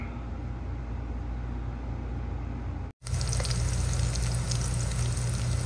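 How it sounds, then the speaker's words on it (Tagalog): Garlic, onion and ginger sauté in a hot pan for a beef intestine adobo, giving a steady close sizzle that cuts out briefly and then returns louder and brighter as the frying continues. "ginigisa ko na po ang ating bawang, ang ating sibuyas at ang ating luya"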